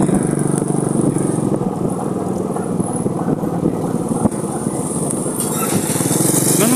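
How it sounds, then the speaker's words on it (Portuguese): A motorcycle engine runs steadily nearby with a low, rumbling drone and some rattling, continuous throughout. "E na direção da moto é nosso amigo Jorge"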